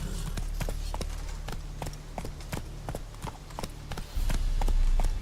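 Horse Roach's hooves clip-clop in a steady galloping rhythm across a game world in Witcher 3, loud and close against a low ambient hum, with no one talking.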